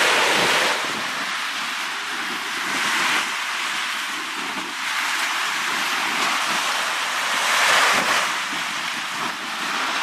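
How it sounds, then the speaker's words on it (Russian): Waves on the shore of Lake Issyk-Kul, Kyrgyzstan, wash in slow, repeated surges, mixed with steady wind noise buffeting the microphone; no voices. "Ну, море еще не успокоилось."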